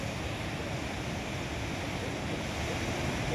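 Rushing water from a waterfall at Rewa Eco Park in Madhya Pradesh, a steady, dense, broadband roar that runs unbroken and fairly loud with no voices.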